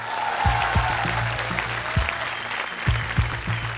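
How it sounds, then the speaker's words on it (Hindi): Applause from a studio audience on the Hindi game show Dus Ka Dum, a steady clatter of clapping with low drum or music hits underneath, holding at even volume throughout. "तालियां।"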